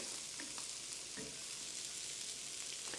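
Shrimp frying in a hot pan for New Orleans-style BBQ shrimp, giving a steady, dense sizzle with faint pops throughout, close and continuous with no talking.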